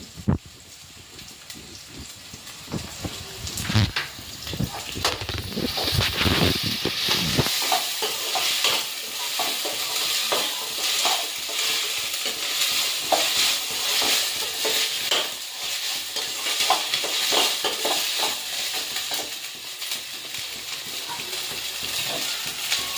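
Ginger garlic paste sizzles in a pan for rajma curry while a spoon stirs it, with heavy scraping strokes at first, then a steady crackling fry marked by occasional stirs.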